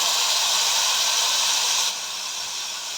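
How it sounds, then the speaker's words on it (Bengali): Steady loud hissing sizzle rises from a paste added to hot mustard oil with nigella seeds in a pan on a gas stove, close and continuous, easing slightly toward the end with no talking. "এবার দিয়ে দেবো সর্ষের তেল, কালো জিরে দিয়ে দিলাম। এবার পেস্টটা দিয়ে দেবো"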